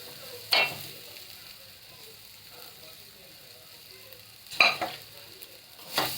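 Cooked rice being stirred into a pepper and onion tempering in a pan, a soft low sizzle broken by a few sharp scraping strokes of a spoon against the pan.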